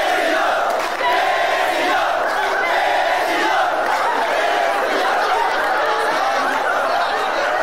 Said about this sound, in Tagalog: nabaliw yung crowd